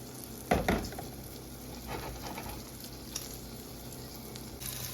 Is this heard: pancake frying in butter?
yes